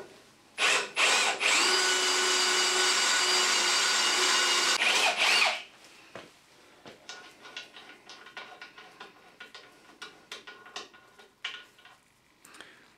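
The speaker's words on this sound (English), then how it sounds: "So I'm just going to drill that out with the correct tapping sized drill." A power drill whines loudly for about five seconds drilling out a broken tap, then stops, followed by scattered scraping and clicking handling noises up close.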